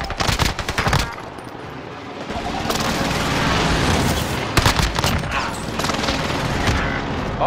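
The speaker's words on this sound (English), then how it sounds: "Enemy precision airstrike." Precision airstrike in Call of Duty Warzone, a loud barrage of rapid explosive bursts and gunfire-like cracks in dense clusters, easing into rumbling noise before another sharp volley of impacts.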